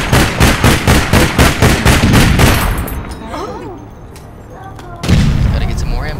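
Rapid automatic gunfire rattles loudly in the video game All Points Bulletin, bursts of fast shots for a few seconds, then a quieter stretch before heavy firing resumes, with a voice talking during the shooting.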